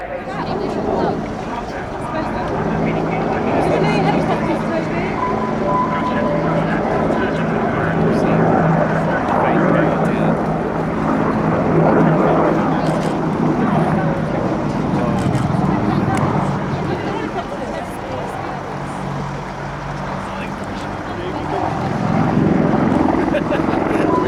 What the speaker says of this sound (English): So they're touching down the Finnish Air Force A-18C Hornet.